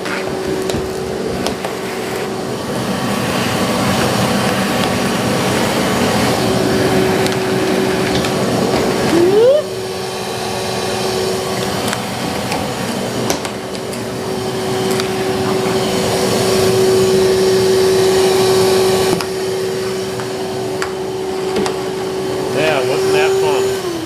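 A steady whirring motor hum runs continuously with a sustained tonal whine from a vacuum cleaner running nearby during apartment floor work, loud and unbroken throughout.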